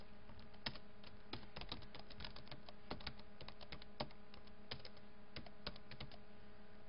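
Rapid, irregular keystrokes tap on a computer keyboard, a close stream of light clicks with small pauses between bursts and a faint steady hum beneath, no voices.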